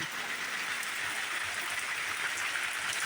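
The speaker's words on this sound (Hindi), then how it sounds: "अब तेज़ी से जो है हवा भी चलने लगी और बारिश भी तेज़ी से हो रही है" Heavy rain pours steadily with wind, a dense unbroken hiss of downpour on surfaces that holds even and loud throughout, with no voices.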